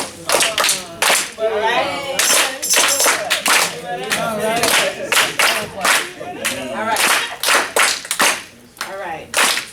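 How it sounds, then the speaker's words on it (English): A group at an afternoon gathering claps in unison, sharp loud claps in an uneven rhythm with shouts and a voice talking over them. "Get the clap. Get the clap. Together."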